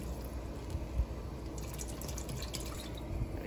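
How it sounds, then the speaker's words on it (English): Water poured into a cooking pot holding chicken, a soft trickling and light dripping with a few small splashes, quiet and close, no voices. "So I'm gonna put in a little bit more water,"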